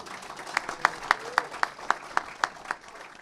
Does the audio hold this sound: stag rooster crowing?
no